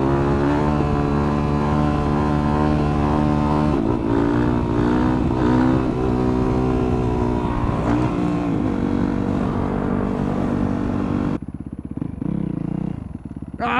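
A motorcycle revs hard while pulling a wheelie on a small track behind a shop, its engine rising and falling in loud close surges, then dropping away sharply near the end.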